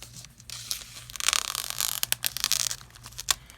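A package of ink colours for a papercrafting kit being opened, with a burst of tearing and crinkling plastic that swells midway, then scattered sharp rips and rustles, close up and with no talking.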